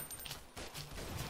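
Machine gun in the Blockade 3D video game firing a quick burst of several rapid shots, fairly faint and close together across a brief moment.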